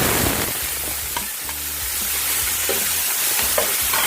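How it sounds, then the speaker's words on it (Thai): Water mimosa stir-fried in a hot oiled pan hisses with a dense, loud sizzle, broken by a few scraping stirs of the spatula, close up and without any voices. "เริ่มร้อนแล้วนะคะ จากนั้นเราใส่ผักกระเฉดลงไปเลย"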